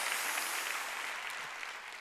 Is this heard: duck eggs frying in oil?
no